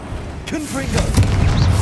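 A Confringo fire spell blasts in Hogwarts Legacy, a booming burst that swells and holds loud over a rumbling low end, with a voice speaking briefly over the start.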